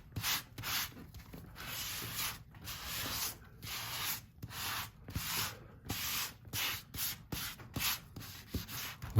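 Repeated rubbing strokes over a National Geographic magazine page for frottage art, loud close scratchy sweeps in an uneven back-and-forth rhythm with short pauses between passes.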